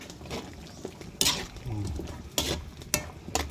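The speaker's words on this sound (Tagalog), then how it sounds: "Tapos haluin natin." A spoon scrapes and knocks through chicken afritada simmering in a cooking pot, giving several sharp clacks spaced unevenly over a soft bubbling bed, close and moderately loud.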